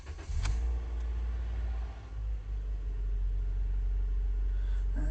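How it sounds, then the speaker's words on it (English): A 2018 Toyota Corolla with a 1.8L engine fires up with a short starter burst and settles into a steady low idle rumble, heard close and alone throughout. "All right, let's turn on the car."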